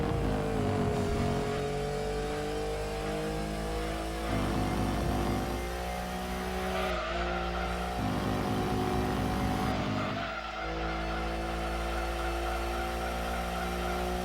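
A racing car's engine in the Gran Turismo 2 video game drones steadily during an endurance race, a buzzy, harmonic whine that dips and climbs through a couple of gear shifts.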